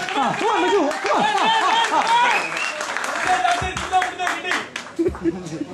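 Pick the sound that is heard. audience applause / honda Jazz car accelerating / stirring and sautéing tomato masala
audience applause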